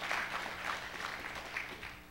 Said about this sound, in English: I would like for us just to give them a round of applause